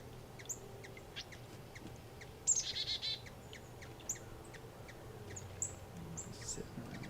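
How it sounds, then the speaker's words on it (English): Cardinals perched in a tree give scattered, sharp high chip notes. A brief cluster of louder calls comes midway over a quiet outdoor hum. "Interesting little congregation of cardinals up in the tree."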